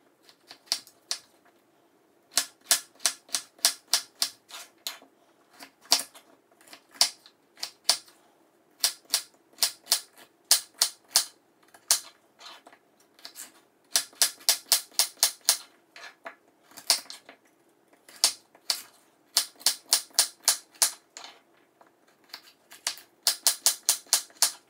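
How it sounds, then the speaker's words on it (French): A kitchen knife dices vegetables for ratatouille on a cutting board in rapid bursts of crisp, evenly spaced chops, near and clear, with short pauses between runs and no talking. "je coupe en petits dés et je les mets dans un bol à part"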